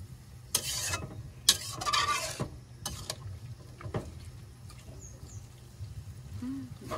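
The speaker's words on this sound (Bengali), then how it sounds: "মশলা ভালো করে তরকারির সাথে মিশিয়ে নাড়াচাড়া করে দিই" Scraping stirs of a spoon through a vegetable curry of greens and spices in a pan, a few sharp scrapes early on, then softer stirring over a low steady background, no talk.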